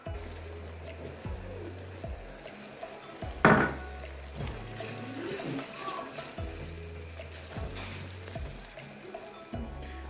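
A utensil stirs a sauce with a chicken stock cube and black pepper in a pan, giving soft repeated scrapes and knocks with a louder clatter partway through, close under a low hum.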